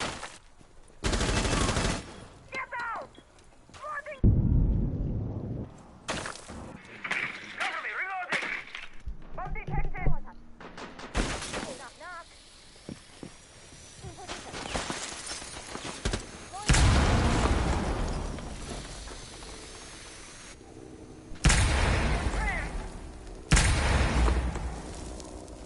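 Gunfire in Rainbow Six Siege during an esports match, with sharp irregular shots and bursts, cracks and breaking impacts scattered throughout, mixed with in-game sounds and commentators talking over the action.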